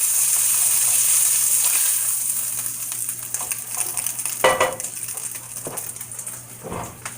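Homemade steak burger patties fry in a hot pan, a close, steady sizzle and crackle that continues throughout, with a few scraping and stirring sounds in the later part.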